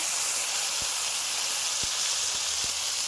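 Ginger drops into hot oil already frying whole garam masala, cumin and bay leaves, giving a steady loud sizzling hiss throughout, broken by a few soft knocks.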